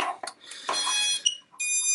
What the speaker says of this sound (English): So the buzzer is kind of sitting on the top plate and the LEDs.